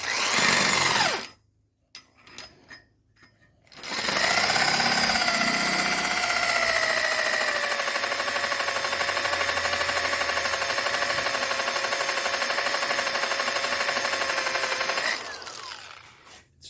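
Drill bit grinding into a broken bolt in an engine block, a few short bursts of a power drill first, then a sustained loud whine with a steady chattering buzz for about eleven seconds before it spins down.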